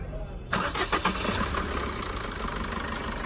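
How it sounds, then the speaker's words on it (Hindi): Maruti Brezza car engine, just fitted with a new timing chain, cranked with the self-starter: a short burst of starter whirring catches into a steady close idle, with voices faintly nearby. "सेल्फ मारो जी"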